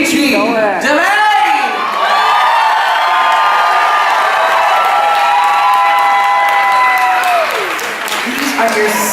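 A loud, sustained wave of applause and cheering from an audience at a live drag queen show in Columbus, Ohio, with whoops and shouts rising over constant clapping for about nine seconds.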